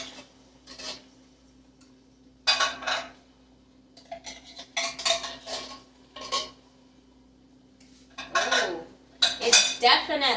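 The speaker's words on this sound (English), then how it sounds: "make sure you scrape the bottom" A metal utensil scrapes and clanks against the bottom of a pot of ground beef chili with kidney beans, coming in several separate bursts of scraping with quiet pauses between them.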